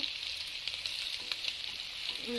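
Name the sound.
fish frying in oil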